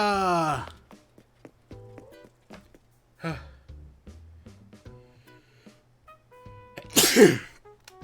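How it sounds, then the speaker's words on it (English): A single loud, close sneeze bursts out near the end, following a stretch of soft, sparse game sounds from Animal Crossing: New Horizons and brief talk at the start. "Oh, God, I need to sneeze."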